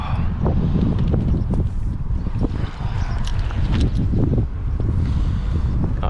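Strong wind gusts outdoors on a fishing trip and buffets the microphone in a loud, continuous rumble. Thumps and knocks from handling gear at the waterside come through it.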